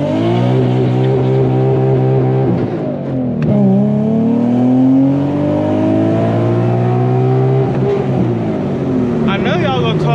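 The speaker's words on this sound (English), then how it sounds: "I could low-key launch my car right here." An admin-tuned Infiniti G37 idles loudly nearby with a deep steady engine drone, then revs and sweeps up and down in pitch with a couple of sharp blips, close and prominent.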